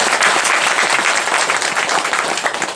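Dense, sustained applause from a congregation at a Christian church gathering, steady and loud throughout with no voices standing out.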